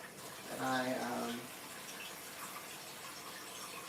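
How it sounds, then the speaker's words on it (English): Tap water running over a handful of kale being rinsed, a short gushing splash that swells and fades within about a second, followed by a quiet background of faint room noise. "I just rinsed a handful of kale here."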